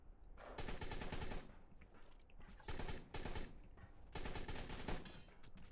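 Rapid gunfire in ARK: Scorched Earth aimed at Argentavis birds, arriving in three sustained automatic bursts separated by short pauses, fairly distant and moderately loud.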